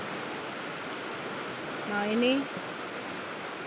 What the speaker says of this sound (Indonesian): Sungai ini besar, dia mengalir sampai sana.